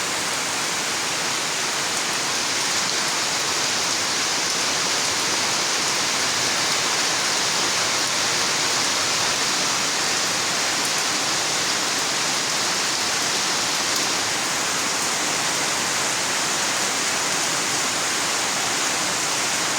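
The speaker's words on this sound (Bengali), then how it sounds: "টিনের ঘরে ঝমঝম বৃষ্টির আওয়াজ" Heavy rain drums steadily on the tin roof of a house at night, a loud, dense, unbroken roar that holds the same level throughout with no voices.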